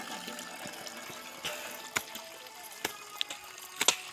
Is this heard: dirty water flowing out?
yes